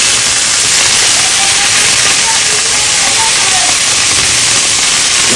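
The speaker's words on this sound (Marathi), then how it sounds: "पनीरला फ्राय करून घेते" Paneer fries in plenty of ghee on a hot tawa for butter paneer, a loud, dense, steady sizzle and hiss filling the clip without letup.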